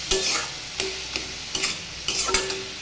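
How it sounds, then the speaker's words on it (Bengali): Ginger is stir-fried in a pan over a low sizzle, with four quick, evenly spaced scraping strokes of a spatula, close and clear. "একটু শুকনো শুকনো ভাজা করবে। এবার আদা দিয়েছি।"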